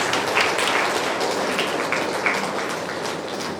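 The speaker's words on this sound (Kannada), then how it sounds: "ಚಪ್ಪಾಳೆ ಚಪ್ಪಾಳೆ." Audience applause at a tenth-anniversary stage program, a dense sustained clapping from a crowd that stays loud throughout and eases off slightly toward the end.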